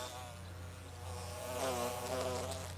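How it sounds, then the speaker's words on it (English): A bee buzzes close by at an outdoor trail survey box, a steady insect drone with a harmonic hum that swells louder toward the end, with no talk over it. "Oh, there's a bee going in there."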